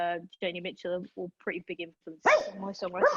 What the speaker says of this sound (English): I apologise for my barking dog.